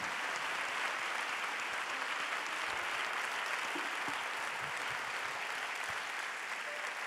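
A big audience keeps up sustained applause for a singer at a live Italian music event, a thick, unbroken roar of clapping holding steady throughout with a faint crowd murmur beneath.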